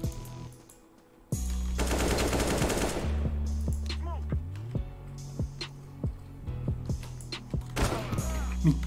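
Repeated gunfire aimed at the player in the Counter-Strike game, with a dense automatic burst followed by sharp single shots at a steady pace, loud and close, and a voice talking over the shooting.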